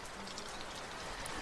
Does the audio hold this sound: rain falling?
yes